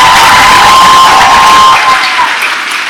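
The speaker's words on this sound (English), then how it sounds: "One more big round of applause for the AP Honor Roll." Students at an elementary school graduation applauding and cheering for the AP Honor Roll, loud dense clapping mixed with shouts and whoops from a large crowd, tapering off toward the end.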